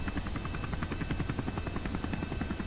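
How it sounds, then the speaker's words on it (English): Stock helicopter sounds from the Kerbal Space Program video game, a steady rapid rotor chop with whining engine tone, continuous and fairly close, with no talk over it. "I am playing stock helicopter sounds in the background."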